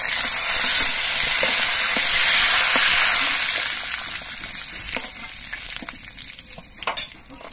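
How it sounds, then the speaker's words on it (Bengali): Eggs fry in hot oil in a wok with a loud, steady, hissing sizzle that eases off in the second half, leaving scattered crackles and pops. "ডিমগুলো বেশ ভালো মতো ভাজা হয়ে গেছে"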